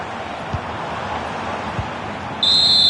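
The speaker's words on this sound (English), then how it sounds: "there goes the final whistle" Referee's final whistle at a Bundesliga football match: one long, steady, piercing blast near the end, over a constant stadium crowd roar.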